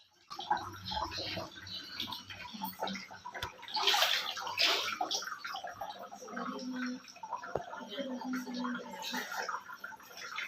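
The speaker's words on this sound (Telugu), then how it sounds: "కుండపోత వర్షం కురిసింది" Heavy torrential rain at night with floodwater running through the streets, a steady watery wash and gurgle, with voices talking over it now and then.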